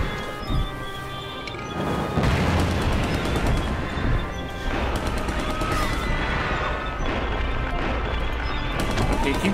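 Loud, rumbling blasts and crashing debris fill a Kaiju-A-GoGo game scene, one big explosion rolling into sustained noisy destruction with a few synth tones over the top.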